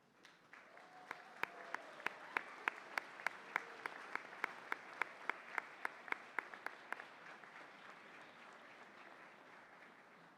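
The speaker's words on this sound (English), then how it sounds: "give a round of applause to your supporters" Law school graduates at a commencement ceremony applaud their supporters, a crowd's steady clapping with distinct sharp claps in an even rhythm that fades out toward the end.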